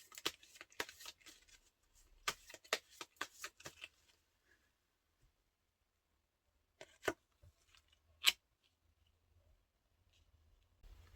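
Tarot cards are shuffled close by in a quick, soft riffling burst, followed by a few sparse taps and slides as cards are drawn, in an otherwise quiet room.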